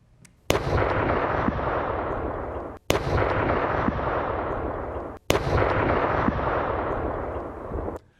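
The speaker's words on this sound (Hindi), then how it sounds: "वहां भयंकर धमाके हुए" Three heavy bomb blasts in Ukraine, evenly spaced, each hitting sharply and then rumbling on for a couple of seconds before dying away.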